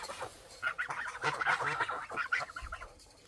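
Young geese on a small farm, honking in a quick irregular series of nasal calls at moderate distance, with faint background noise between the calls.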